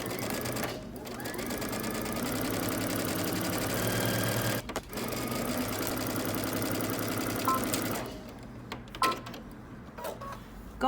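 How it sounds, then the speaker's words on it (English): A sewing machine runs steadily, stitching a seam across the shoulder of a Simplicity #8558 jacket. The loud, continuous motor whir holds for about eight seconds and then stops, leaving a few faint clicks and handling sounds. "Now you're going to stitch across the shoulder."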